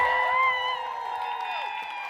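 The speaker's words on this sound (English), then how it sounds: "stand to y'all feet, give him a round of applause, make him feel like home" A studio audience at a talk show cheering and whooping during a practice round, a dense crowd roar with shrill shouts, sustained and fairly loud.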